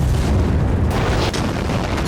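Bombing explosions in Syria come through as a loud, continuous low booming rumble that rolls on without pause.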